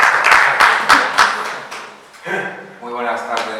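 Applause from a lecture audience rattles for about two seconds and fades, then a speaker begins talking.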